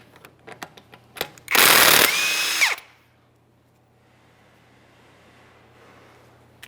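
A power impact tool zips off lug nuts on a 2015-2019 Subaru Outback in a garage, one loud close burst of about a second after a few light clicks, followed by quiet room noise.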